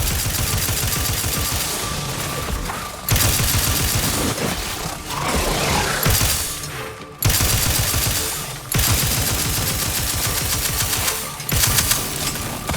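Heavy, sustained automatic gunfire in The Outer Worlds 2 rattles on in long, dense volleys, broken by a few brief pauses before each burst resumes.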